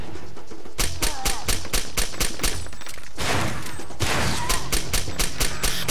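Rapid bursts of gunfire from the video game Far Cry 2, sharp repeated shots in quick rhythmic volleys, loud and close, with a brief lull midway before firing resumes.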